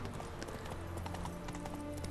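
Roach, the horse in The Witcher 3, trots with a steady, close clip-clop of hooves set against a continuous game soundtrack.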